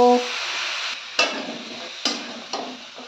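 Drumsticks and mixed vegetables with spices being stirred in a pan, a steady sizzling hiss broken by three or four sharp scraping strokes of a spatula, close and fairly loud.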